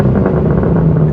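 A BMW G80 M3 with its exhaust valves fully open roars loudly and steadily during a gear pull, a close, continuous engine drone.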